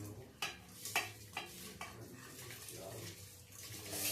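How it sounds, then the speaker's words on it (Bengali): Rice tipped into a cooking pot in a home kitchen gives a few soft scattered rattles and clinks over a faint watery stirring background, fairly quiet and close, with no talking. "এবার আমি চালগুলো দিয়ে দেবো।"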